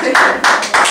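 Hands clap in praise during a Korean church worship service: three sharp, loud, close claps spaced evenly less than a second apart, with a brief ringing decay after each.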